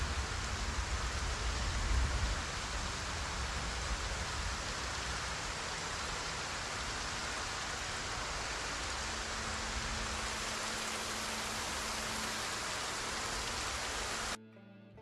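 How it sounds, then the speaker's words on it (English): Heavy rain pours steadily in the video game Project Zomboid, a dense, loud, continuous hiss that holds unchanged for the whole stretch with no voices, cutting off abruptly at the end. "Is it really loud? The rain is loud?"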